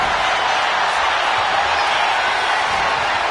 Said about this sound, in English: This capacity crowd is beside themselves tonight.